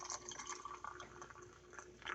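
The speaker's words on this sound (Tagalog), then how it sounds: "Tapos lagyan natin ng mainit na tubig." Hot water being poured over lemon in a kitchen, a soft, steady liquid splash and trickle with faint drips, fairly quiet and continuous for a couple of seconds.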